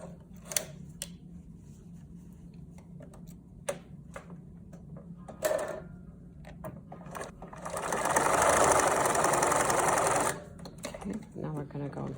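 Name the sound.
Bernina sewing machine stitching a mask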